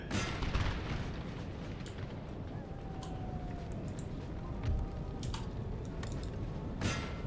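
Musket volleys and artillery fire from a Napoleonic battle in the Napoleon: Total War strategy game, scattered booms and sharp cracks at irregular intervals over a continuous battlefield rumble.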